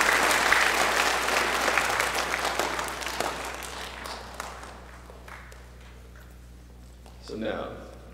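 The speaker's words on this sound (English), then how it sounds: "So if you can join me in a round of applause for our teachers here" A school assembly crowd on Veterans Day applauds their teachers with a dense, loud wash of clapping that gradually fades toward the end, followed by a brief stir of voices.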